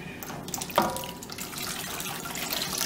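Water pours from a tap into a roasting pan for slow-roasted beef shanks, a steady rushing flow with a sharper splash near the start that continues without pause to the end.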